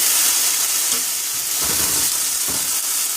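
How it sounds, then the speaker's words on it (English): Potatoes for papas rancheras frying in a pan, a steady loud sizzle and steam hiss with a few soft scraping stirs, no talking. "then I'm going to give them a quick stir"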